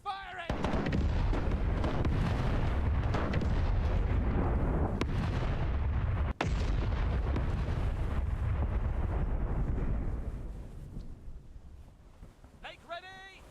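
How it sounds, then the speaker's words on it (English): Naval video game broadside of ship cannons, a long rolling barrage of booming blasts and rumbling roar that fades out, with a sharp crack partway and a voice at the end. "Ready to fire. Commence firing."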